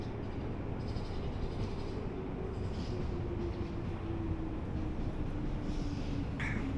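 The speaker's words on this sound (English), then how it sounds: "there is the train line right there" A train passes on a nearby line beside a public park in Japan on a rainy day, a steady low rumble and rolling hum that holds evenly throughout at moderate distance with no talking.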